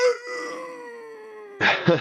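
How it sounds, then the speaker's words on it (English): Human voice howling like a fighter's war cry, one long falling wavering howl, fairly close, followed by a brief burst of noise. "I think about that howl that you do."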